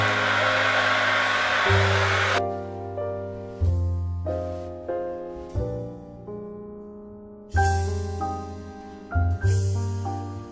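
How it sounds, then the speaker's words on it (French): A hair dryer, used with a brush to dry freshly cut bangs, blows loudly and steadily for about two seconds, then cuts off as music takes over. "On va sécher les cheveux. Sèche-cheveux, brosse, et on va sécher ça"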